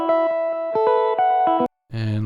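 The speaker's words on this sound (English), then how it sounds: "Just literally just use 2x2 delay. With the ping pong on, it goes like left to right." A guitar run through a ping pong delay in Ableton: quick plucked notes repeat with short echoing taps. After a brief silent break, a sustained chord comes in. No one speaks.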